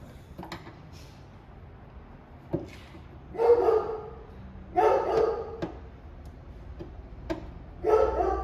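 A dog barks several times in short clusters, somewhat distant, with quiet clicks and background noise between the barks.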